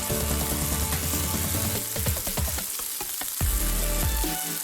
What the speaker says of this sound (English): Let's grill a delicious steak. Add butter, add rosemary